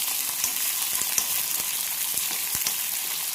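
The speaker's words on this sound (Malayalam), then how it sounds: "ഇതിലേക്ക് അരിഞ്ഞു വെച്ച കോവയ്ക്ക കഷ്ണങ്ങൾ ആഡ് ചെയ്ത് കൊടുത്തു. ഇതൊന്ന് നന്നായിട്ട് വഴറ്റി കൊടുക്കണം." Chopped ivy gourd pieces with ginger sauté in a hot pan, giving a steady, close oil sizzle with light crackles and occasional stirring scrapes throughout, with no voices.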